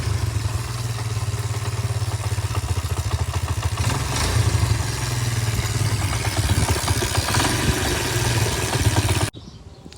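A Yamaha YZ250F pit bike engine running at a steady, rattling idle after a first-kick start, loud and close with a constant chugging pulse, cutting off abruptly near the end.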